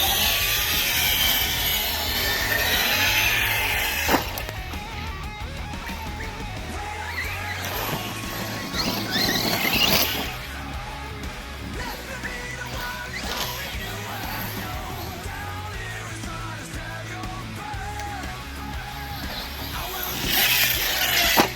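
An Arrma Kraton EXB RC car drives nearby with a rear differential repaired with JB Weld. Its electric motor whines continuously, rising and surging at intervals, with scuffs and rattles over rough ground and no voices.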